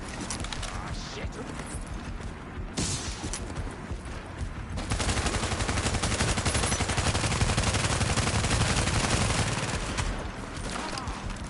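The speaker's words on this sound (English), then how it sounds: "My turret keeps hitting him." A deployed turret rattles off rapid automatic fire in The Division shooter game, a dense, fast clatter that swells louder midway and continues alongside other gunfire and game noise.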